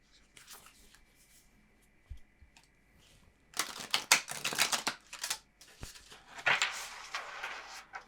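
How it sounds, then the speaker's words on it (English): Tarot cards shuffled by hand in bursts of crisp riffling and flicking, loudest in the second half, with quiet rustles and a few soft taps between. "I'm going to go ahead and just shuffle this one more time."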